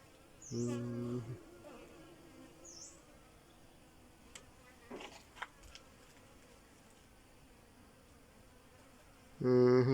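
Bees fly in and out of log hives set out in a field, a steady soft insect buzz with a few louder close passes, one near the start and another at the very end.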